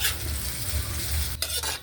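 Ginger and garlic stir-frying in a hot pan, with a loud, steady sizzle and crackle close up and a brief scrape of a utensil near the end, no talking.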